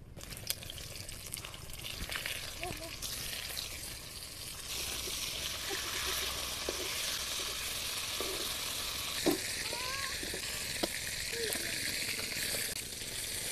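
Spiced lote fish sizzling and frying in a pan, a steady close crackle under a few clinks and stirring scrapes.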